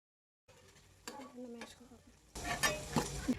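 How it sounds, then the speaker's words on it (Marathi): Potato tikki shallow frying in a pan over low heat, a few scattered spatula taps and scrapes giving way to a louder, bubbling sizzle of oil near the end, close up. "बारीक गॅसवरती आपल्याला टिक्की शॅलो फ्राय करायची"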